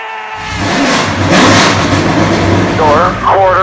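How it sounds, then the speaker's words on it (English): A super late model race car engine fires up and revs hard, a loud close roar that rises and holds, with a voice calling out briefly near the end. "Gentlemen, start your engine!"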